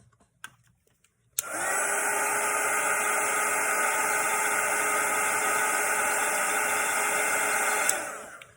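A hair dryer switches on abruptly after a few faint taps and blows loudly and steadily over fresh watercolor paint on a Christmas gift painting for several seconds before cutting off.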